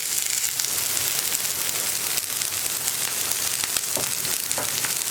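Green beans sizzle steadily in hot oil with mustard seeds, two dried red chillies and curry leaves for a Kerala cabbage and payar thoran, a continuous close frying hiss with occasional stirring pops and no talking.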